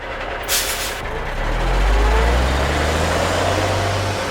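A tow truck with air brakes hauls a Tesla, its heavy engine rumbling steadily and rising in a low drone, with a short hiss of air release near the start.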